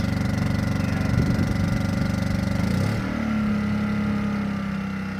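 A Ryobi 900-watt propane inverter generator runs steadily nearby with a constant droning hum; around midway its pitch shifts and settles into a slightly different, louder tone under a load of about 800 watts.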